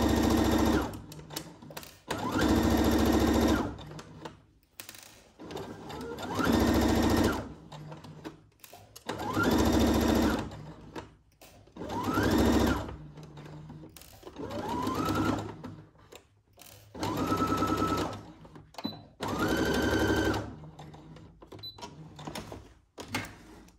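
A sewing machine stitches seams with backstitching on a Simplicity 1802 Cynthia Rowley pattern, giving loud, close bursts of rapid mechanical whirring. Five or six runs of a few seconds each are separated by brief pauses for handling the fabric.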